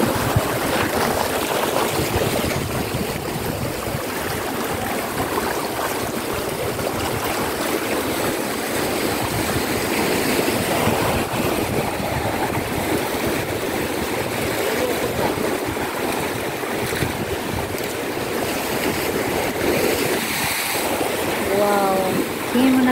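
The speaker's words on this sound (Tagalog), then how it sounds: "Wow, diba? Lakas-lakas ng alon mga guys." Sea waves break on the shore at Infanta, Quezon in a continuous roar of surf with rising and falling surges, mixed with wind buffeting the microphone.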